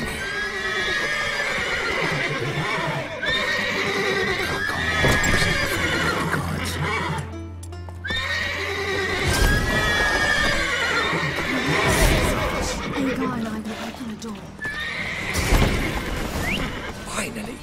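In The Witcher 3 video game, horses whinny and neigh repeatedly while hooves clip-clop steadily underneath, close and lively, with someone talking over the action.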